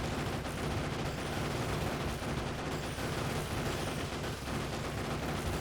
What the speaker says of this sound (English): It has got a machine gun on it. It's a little bit better than the submachine gun the player has.